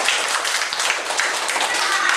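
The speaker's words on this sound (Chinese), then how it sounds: "来掌声鼓励这两个同学" Classroom applause for two students: a dense burst of many hands clapping at once, steady and fairly loud throughout.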